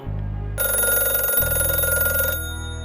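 A telephone bell rings loudly in a continuous electronic trill for about two seconds over a steady low hum, with no voices present.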